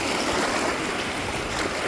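Waves wash steadily at the water's edge on a shell-strewn beach. The surf makes a continuous, fairly loud rushing hiss with no distinct breaks and no voices.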